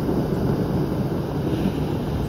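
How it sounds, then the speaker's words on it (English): Tide surging through fist-sized and head-sized cobble and boulders on a shore, a dense, steady low rumble with wind noise, close and continuous for a couple of seconds without talk. "that rumbling is the water, is the tide running through all this cobble here"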